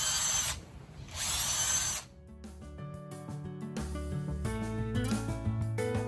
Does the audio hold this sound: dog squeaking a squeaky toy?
no